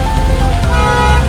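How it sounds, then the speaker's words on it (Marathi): Loud, close traffic jam during Ganpati festivities in Bapat Camp, Kolhapur, with a deep engine rumble and a droning hum of vehicles, filling the whole moment without a break. "ट्रॅफिक केवढं जाम आहे ते बघा"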